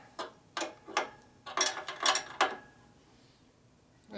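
A ratchet wrench torquing down nuts on a 1965 Harley-Davidson panhead 74ci FLH motor, a run of quick metallic clicking bursts up close, then a quiet tail.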